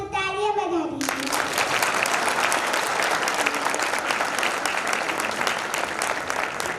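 An audience claps for children after a song at a youth theatre stage event in Damoh. The dense, steady applause starts abruptly after a brief spoken announcement and stays loud throughout.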